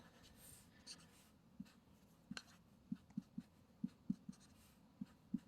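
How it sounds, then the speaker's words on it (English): A pen or marker drawing a number line by hand, heard as a series of short, faint, close taps and strokes in an uneven rhythm against a quiet room. "let me just draw a number line"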